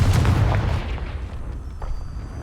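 Confringo fire spell in Hogwarts Legacy erupts as a loud, booming blast that opens heavily and rumbles away over a couple of seconds into a lower, rough tail.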